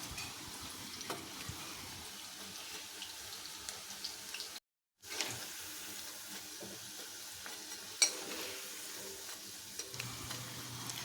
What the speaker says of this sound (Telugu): ఇదిగోండి ఇట్లా ఒక 2-3 సార్లు కలుపుకుంటూ వేగించుకోవాలి.